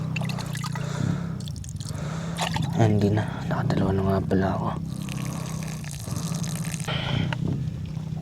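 Uncooked rice being rinsed in water at a campsite in Nagcarlan, with trickling, dripping and sloshing sounds running under near, continuous talk.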